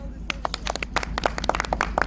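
A small group of people claps unevenly at a family gathering, sharp irregular hand claps close by with faint voices underneath.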